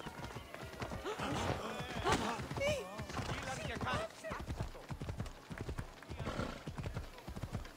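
Rapid hoofbeats clatter in a steady galloping rhythm in the video game Assassin's Creed Odyssey, with a horse whinnying briefly and a voice talking over much of it.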